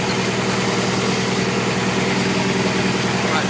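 Honda Accord with an AWD H2B engine swap and custom exhaust idling close by, a steady low rumbling drone with even vibration and no talk.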